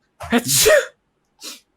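One sharp, close sneeze bursts out, followed after a short pause by a brief spoken response.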